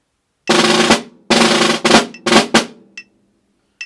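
A snare drum plays a sustained roll that cuts off, followed by short crisp strokes with grace notes, close and loud, then a few light taps.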